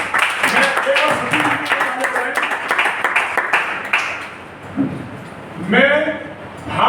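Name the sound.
audience applause at a poetry event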